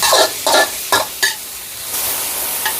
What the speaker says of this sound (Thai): แล้วก็จะคนให้เนื้อมัน ไม่เป็นก้อนค่ะ มันจะได้สุกไว